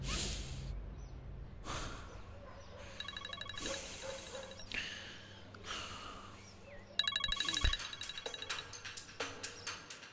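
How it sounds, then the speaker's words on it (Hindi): An incoming call's phone ringtone chirps in repeated electronic bursts over a soft musical underscore, with breaths and faint vocal sounds between the rings. "अब मलिका क्यों फोन कर रही है?"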